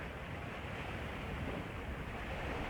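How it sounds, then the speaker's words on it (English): Steady wind and wave wash while sailing in Scotland on a breezy day, a continuous broadband rush with no talk. "So nice little bit of wind, nice breeze to play with today."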